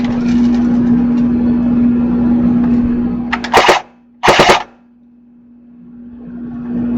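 A CB 88 Chrono Blaster BB gun, under repair, fires two sharp rattling bursts close up over a steady electric hum, which then cuts out and leaves near silence.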